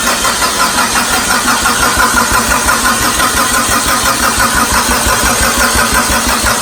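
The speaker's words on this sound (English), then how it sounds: "We're gonna do a little crank, run some oil through the turbo, make sure everything's good, no leaks" Mitsubishi Evo 8 engine with a big turbo installed, cranking over on the starter in a steady, fast, loud chugging rhythm that runs without a pause and with no voices over it.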